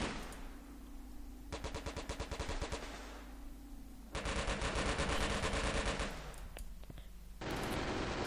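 MG34 machine gun fire in the Company of Heroes battle game, with long loud automatic bursts of rapid rattling shots, a pause, another sustained burst, and a further burst at the end over steady battlefield rumble.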